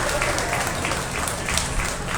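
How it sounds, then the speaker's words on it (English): At a county fair swine show, an audience gives a brief, even round of applause for the young exhibitors. The clapping is dense and moderately loud throughout. "give them a nice round of applause for doing so within their progress"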